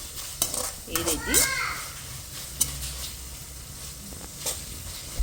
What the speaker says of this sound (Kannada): ಸ್ವಲ್ಪ ಅರಿಶಿನ ಮಿಕ್ಸ್ ಮಾಡಿಕೊಂಡು ಚೆನ್ನಾಗಿ ಫ್ರೈ ಮಾಡ್ಕೊಳ್ಳಿ.